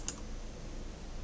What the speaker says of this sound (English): You can double click on the account.